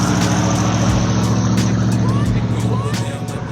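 An American V8 car engine rumbles close by, a deep throbbing idle with a heavy low pulse and a slight rise and fall, while faint clicks and background noise sit over it.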